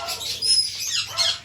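Pet birds in a small home aviary give a few short, bright chirps close by, bursts of high tweeting with brief pauses between them.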